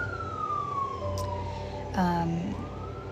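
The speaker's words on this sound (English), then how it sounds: "The sirens happen." Emergency vehicle sirens wail through a downtown street, a rising and falling tone that swells louder as it passes close, over steady city traffic noise.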